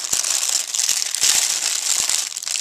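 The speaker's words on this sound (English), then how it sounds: "Lacerate with the scissors" Scissors snip and slice through plastic camcorder packaging, producing crinkly rustling with a few sharp clicks from the blades, heard close up with no talking.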